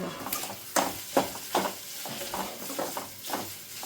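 Grated coconut being stirred into koottu curry in a frying pan, a series of soft scraping strokes with light sizzling underneath, close and fairly quiet.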